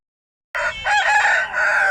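A rooster crows loudly and close by at a poultry market, one sustained cock-a-doodle-doo that rises and wavers over about a second and a half after a moment of silence.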